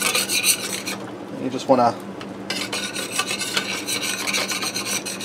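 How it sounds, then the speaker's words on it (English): A spatula scrapes and rasps steadily across the bottom of a pan holding beef broth while onion gravy for hamburger steaks is made, with a brief spoken phrase near the middle. "work your spatula around in there and get all that goodness scraped up"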